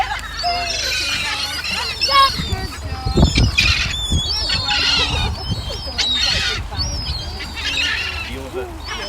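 Birds squawk and squeal while being fed, dense overlapping calls near the microphone, with people talking loudly throughout.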